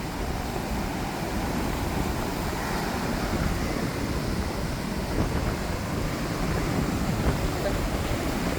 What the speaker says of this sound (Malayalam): തിരമാലകൾ കരയിലേക്ക് അടിച്ച് കയറിക്കൊണ്ട് ഇരിക്കുകയാണ്